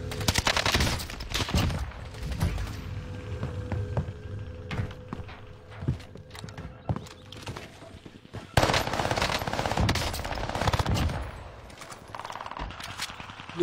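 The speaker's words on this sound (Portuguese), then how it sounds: "Gordão verde me acertou um tiro, Tiamat." Gunfire in Modern Warfare 2 multiplayer: rapid automatic bursts and single shots crackle irregularly, some near and sharp, others farther, with footsteps between volleys and a heavy barrage near the end.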